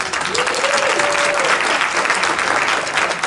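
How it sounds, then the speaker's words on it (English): Sustained applause from a crowd, steady and fairly loud throughout, with a faint whistle-like tone briefly rising above the clapping. "give him a round of applause"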